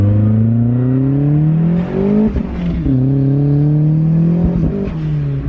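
A turbocharged Mazda Miata engine revs hard up through the gears, loud and close, its whining tone climbing steadily with brief dips at each shift.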